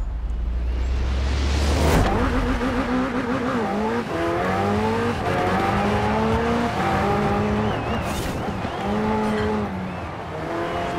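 A McLaren Senna races in Forza Horizon 4, its engine loudly revving and rising through repeated gear shifts, with a sharp tire screech early on and a constant close, roaring drive.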